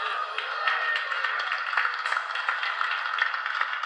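A church audience claps together in a dense, even patter of many hands that keeps up without pause for a few seconds.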